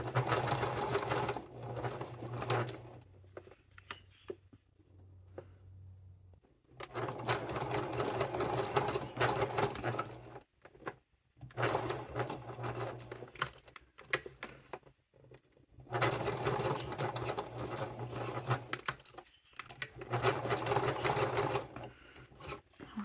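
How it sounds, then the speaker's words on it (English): A sewing machine zigzag-stitching around a fabric wallet runs in steady buzzing bursts, close and loud, with brief pauses between runs of stitching and no voices. "I'm going to sew this around"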